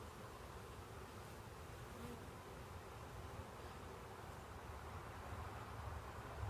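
A dense, steady hum of many honeybees buzzing close around while a package is installed into a hive, faint but constant throughout.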